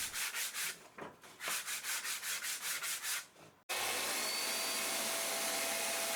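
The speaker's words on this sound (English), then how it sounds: "I need to remove the glue with some rough sanding" Rough sanding strips glue from a wooden bulkhead for a catamaran build, a rhythmic series of rasping back-and-forth strokes that stop, then give way to a steady loud roar of a power sander or extractor running alone.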